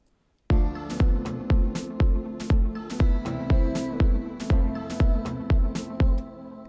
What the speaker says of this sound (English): And then I have some snares in here.